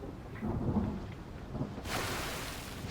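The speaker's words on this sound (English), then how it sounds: "Where'd that thunder come from?" Thunder rumbling through a rainstorm in Genshin Impact, a low rolling boom over steady rain hiss that swells to a broad, heavier wash of rain partway through.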